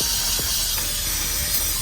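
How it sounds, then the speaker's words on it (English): Brake cleaner is sprayed onto a 4Runner differential during an oil change, one steady, close, loud aerosol hiss that runs nearly two seconds without a break. "Then just brake clean it."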